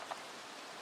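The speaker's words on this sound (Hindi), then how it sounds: "बारिश कब रुकेगी?" Steady rain hisses evenly, a soft continuous patter with no voices.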